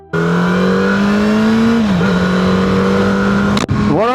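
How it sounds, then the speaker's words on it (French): A Yamaha FZ8 motorcycle, its engine derived from the Yamaha R1, pulls away and revs hard, a loud steady rising engine tone that dips briefly before a sharp gear change and another climbing rev near the end. "Donc là on est sur une Yamaha FZ8."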